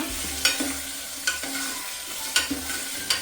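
Tempering spices crackle and sizzle in hot oil over a full gas flame while a spoon scrapes and taps the pan in quick, irregular strokes.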